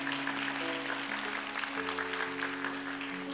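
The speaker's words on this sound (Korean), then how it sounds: "축하의 격려와 위로의 박수 같이 함께 드리겠습니다" A congregation at a church youth service claps warmly and steadily while soft sustained keyboard chords play underneath.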